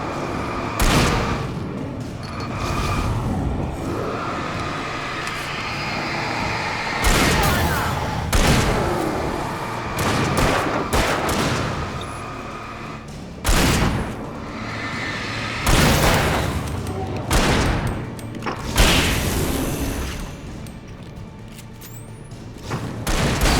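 Gunfire in the game Alan Wake, loud sharp shots repeating irregularly across a continuous roar of ambient noise, with some talk mixed in.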